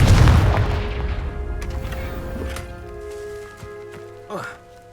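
A Confringo spell exploding in Hogwarts Legacy, a heavy booming blast that rolls off into a long fading rumble and debris, ending with a brief whooshing swell.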